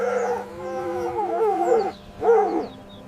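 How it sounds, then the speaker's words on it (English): A fox calls with two wavering, howl-like cries, the first longer and the second short after a brief gap, loud and close with no talking. "It's a fox."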